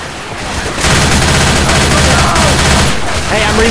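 Rapid automatic gunfire in the video game Left 4 Dead, loud and sustained bursts with a shouting voice over the shots.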